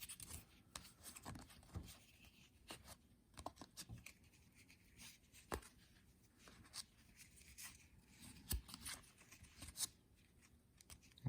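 Soft papery rubbing and flicking of stiff baseball cards being thumbed through, with irregular light clicks and scrapes, close and quiet.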